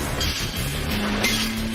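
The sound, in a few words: steel wire screeching through uncoiling and straightening machines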